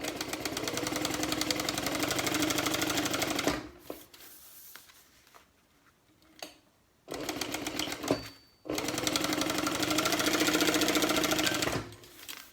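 A sewing machine stitches a seam in a Mini NCW wallet at stitch length 4 with a quarter-inch allowance. It runs in two long, steady, close bursts, separated by a quieter pause with a few faint clicks and handling sounds.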